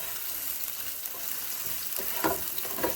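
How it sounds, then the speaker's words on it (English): Onions browning in a frying pan for chicken adobo, giving a steady close sizzle with a couple of louder stirring scrapes near the end, no voices. "I'm just going to brown up the onions a little bit."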